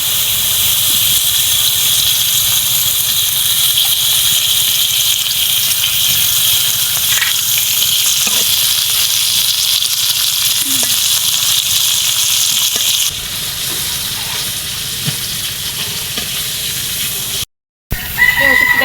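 Dried fish (phewa shutki) frying in a little oil in a home kitchen: a loud, continuous close-up sizzle and hiss that holds steady, eases slightly partway through and breaks off briefly near the end.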